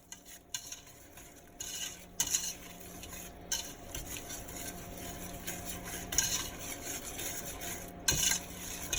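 A pecan candy mixture with half and half is stirred in a pot on the stove, giving repeated scraping and clinking strokes of a spoon against metal over a faint simmer, close and without speech.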